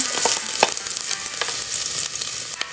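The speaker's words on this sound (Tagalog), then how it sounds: "mag-gisa ako ng bawang" Garlic sautéing in a pan, a steady close sizzle and crackle with occasional stirring scrapes, continuous and fairly loud with no talking.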